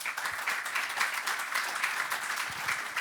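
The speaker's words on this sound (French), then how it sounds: "j'aimerais qu'on les applaudisse" Steady applause from a conference audience at a keynote talk on DIY philosophy, a dense wash of many hands clapping at even loudness throughout, with no voices over it.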